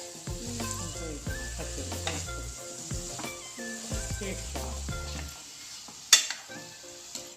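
Onions and ivy gourd masala frying in a pan, a soft continuous sizzle under tonal background music, with a sharp clatter near the end.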